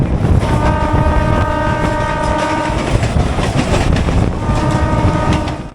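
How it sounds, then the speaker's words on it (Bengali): A Howrah–Haldia fast local train pulling into Durgachak station, very loud and close, with a roaring rumble and clatter of wheels and a sustained horn blast that sounds twice over the noise. "একশো পঁচিশ কিলোমিটার জার্নি করে সামনে দুর্গাচক ঢুকছে ট্রেনটা"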